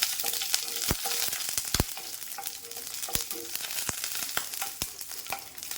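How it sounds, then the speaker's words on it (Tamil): Mustard seeds splutter in hot oil in a pan for buttermilk curry, a busy crackling sizzle studded with sharp pops at irregular intervals, close and alone. "கடுகு போட்டுக்கலாம். கடுகு வெடிக்குது."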